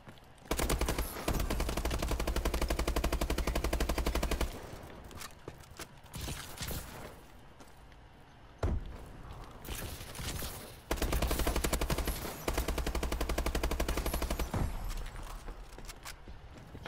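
Rapid automatic gunfire from a video game shooter rattles loudly in long sustained bursts, broken by short pauses and quieter stretches of game noise.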